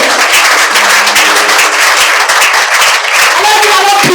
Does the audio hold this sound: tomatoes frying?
no